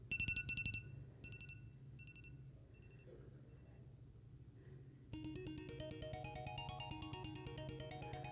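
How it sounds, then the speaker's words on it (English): A phone alarm tone plays through a speaker: sharp repeated electronic beeps at first, then quieter chirps, then a bright, busy rising melodic ringtone pattern, heard in a room with no talking. "If you have a phone and you use the alarm on it, you have like all of these really terribly obnoxious sounds you can choose."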